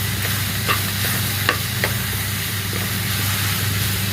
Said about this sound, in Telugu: ఒక స్పూన్ కారం వేసుకోవాలి ఒకసారి కలుపుకుందాం